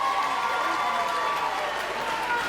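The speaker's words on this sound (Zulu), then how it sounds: "Ngisacela lushayele ihlombe." A crowd claps and cheers at an IFP political rally, a dense, steady roar of applause that fills the whole stretch.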